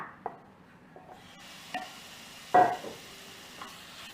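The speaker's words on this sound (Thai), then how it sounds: "ผัดให้น้ำมันมันออกมานะคะ" Quiet sizzling of pork belly stir-frying over medium heat in a pan, with occasional scraping stirs and a few sharper clinks of a utensil against the pan, no talking.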